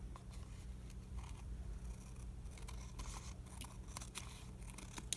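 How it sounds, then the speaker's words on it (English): Scissors trim paper tabs in a series of quiet, crisp snips scattered over a few seconds against a steady low hum, with no talking. "I'm just going to trim off the tabs."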